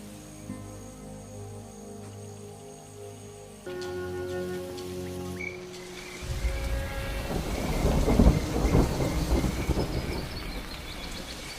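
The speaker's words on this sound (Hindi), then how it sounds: "ये अचानक बारिश हो जाना सामान्य नहीं लग रहा।" Thunderstorm with sudden rain over open African wildlife country: a steady music-like backdrop gives way to a broad, rising wash of rain hiss and deep rumbling thunder that swells loud toward the end.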